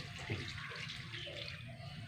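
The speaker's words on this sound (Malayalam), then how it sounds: "കുറച്ച് വെള്ളം ഒഴിച്ചു" Water splashes steadily into a cooking pan with lentils, a continuous close pouring hiss with no voices.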